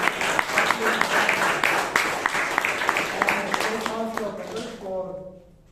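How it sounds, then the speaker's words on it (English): Audience at a Bangalore Toastmasters club meeting clapping in a round of applause, a dense patter of hands that gradually thins while a voice speaks over it toward the end. "Give a round of applause."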